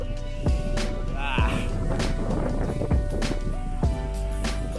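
Gusty wind on Mount Sembrano buffets the microphone with low rumbling thumps while voices talk in the background.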